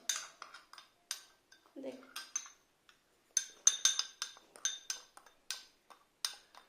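A spoon mixing intimate wash in a small container, light clinks and taps against the sides coming in irregular bursts, close and fairly quiet, with a brief murmur of voice partway through.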